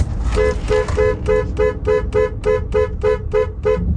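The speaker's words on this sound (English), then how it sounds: "You want it to be a steady, rapid honking." A car horn sounds in a steady, rapid series of about a dozen short, loud, evenly spaced toots, close and clear, with faint road rumble underneath.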